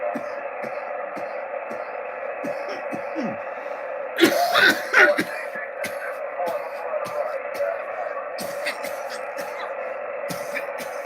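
A few harsh coughs in a short cluster, close to the listener, rising above a steady background hum with faint voices.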